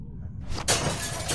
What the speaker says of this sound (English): Shattered that window so you can reach in, okay?